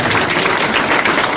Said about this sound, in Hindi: जोरदार तालियां बनाइए